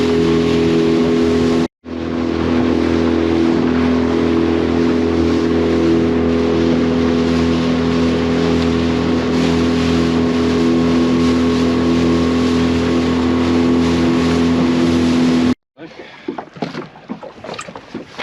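A tiny beach-launched fishing boat runs flat out at about 20 mph, its outboard motor droning loud and steady with strong harmonic hum over rushing water; it cuts briefly near the start, then stops near the end, leaving wind and splashes.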